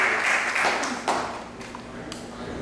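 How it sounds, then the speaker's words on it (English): Applause from a temple congregation during a Sunday class at ISKCON Atlanta. A burst of clapping that starts fairly strong and then thins out, leaving a few scattered taps near the end. "good round of applause for them"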